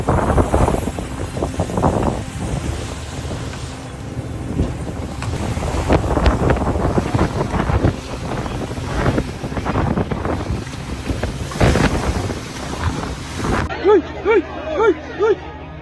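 Massive ocean waves crash in rough seas, a loud roaring wash mixed with heavy wind buffeting the microphone and the rumble of a boat; a different, quieter sound takes over in the final seconds.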